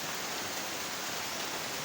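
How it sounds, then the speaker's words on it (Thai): Heavy rain pouring down on a rural Thai home beside rice fields, a steady dense hiss of falling water that stays constant and close with no talk over it. "ฝนตกแรงเลยครับ"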